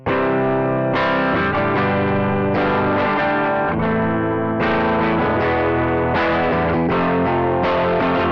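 Harley Benton HB-35 hollow body electric guitar on a clean Fender-style tone through the bridge pickup, strummed chords ringing out steadily with a slight chorus-like shimmer, played alone at a moderate level.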